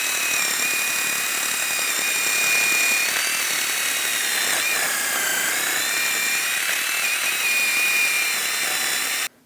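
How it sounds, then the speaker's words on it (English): A wire brush scrubs rust off the front brake hub surface of a 2015-2022 Chevrolet Colorado, giving a loud, steady, whirring abrasive grind that runs without a break for about nine seconds, with no talking. "Now we're going to use a wire brush and just clean up some of the rust on the hub"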